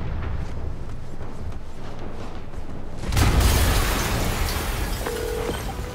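An explosion in a Spider-Man video game, a sudden loud broadband burst partway through that rumbles on over steady background noise.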